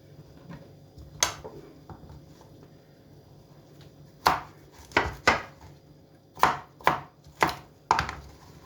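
A knife chops carrots on a board for pickling: a few scattered strokes, then a run of sharp, evenly spaced cuts, close and crisp.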